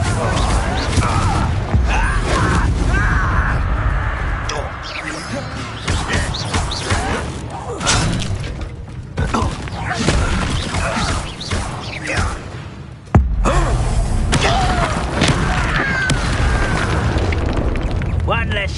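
Repeated Confringo fire-spell explosions in Hogwarts Legacy combat: loud booming blasts and bursts layered over dense, continuous battle noise, with a voice calling out spells throughout.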